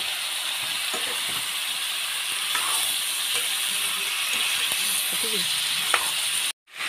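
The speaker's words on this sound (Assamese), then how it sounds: "এতিয়া এইখিনি মই ভালকৈ লৰাই ল'ম" Duck pieces seasoned with salt and turmeric stirred in a hot pan, a steady close sizzle of frying with scattered scraping knocks of the spoon against the pan, cutting off abruptly at the end.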